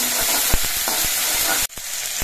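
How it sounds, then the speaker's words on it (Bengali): Ginger paste fries with tomato in a pan, a dense close sizzle broken by spatula scrapes, then cut off suddenly before a quieter crackle resumes. "আদাটা দিয়েও ভেজে নিতে হবে একটুখানি।"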